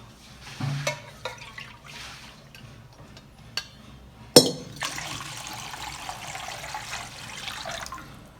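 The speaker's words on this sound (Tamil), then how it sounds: "அதே சேமியா வறுத்த சட்டிலேயே தண்ணி ஊற்றிக்கலாம்." Water poured into the same pan used to roast vermicelli for semiya kesari, a splash and gush of liquid starting midway and running on as a steady pour, after some scattered kitchen clatter.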